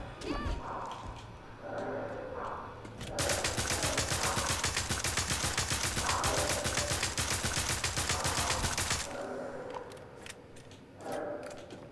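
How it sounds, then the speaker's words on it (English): Sustained rapid machine gun fire from the survival horror game Tormented Souls 2, a loud continuous burst of evenly spaced shots lasting several seconds, preceded and followed by quieter ambient game sounds. "I really love the stopping part that this machine gun has."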